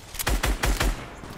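Rapid gunfire in a squad-based shooter video game: four loud, closely spaced bursts in quick succession, then a dying tail of ambient game noise.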